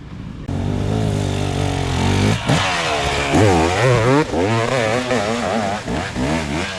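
A Suzuki RM250 dirt bike engine idles loud and close, then revs hard in a series of sharp, wavering blips with a raspy two-stroke snarl.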